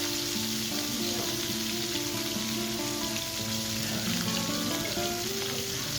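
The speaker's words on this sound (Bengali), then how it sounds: "মাছগুলো আমার ভাজা হয়ে গেছে বন্ধুরা।" Katla fish pieces frying in hot oil in a home kitchen give a loud, steady sizzle and crackle for the whole stretch, with a faint droning hum underneath and no talking.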